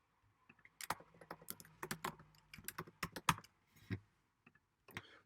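Computer keyboard typing, a quick irregular run of crisp, close keystrokes in short bursts separated by brief pauses, with no voices.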